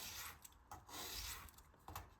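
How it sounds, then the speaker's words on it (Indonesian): Sandpaper rubbing over a rough-cut balsa wing rib for a rubber-powered model airplane, close and steady rasping in repeated strokes with brief pauses between passes. "Maka kita amplas dulu."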